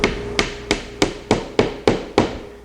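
Eight sharp hammer blows drive wooden dowels into a mitered joint of an outdoor deck bar table, spaced evenly about a third of a second apart, close and crisp with no talk.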